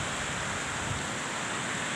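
Floodwater from heavy rain flows down from hilly terrain near a check dam, producing a continuous broadband wash of rushing water that stays steady and fairly loud throughout the short moment.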